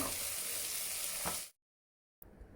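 Potato, peas, carrot and beans fry in oil in a pressure cooker for vegetable biryani, giving a steady close sizzle that stops abruptly for a moment, then resumes.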